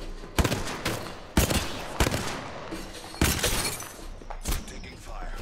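Video game shootout with loud gunfire cracks and blasts arriving in spaced bursts, several sharp shots over a rumbling, chaotic background with faint voices.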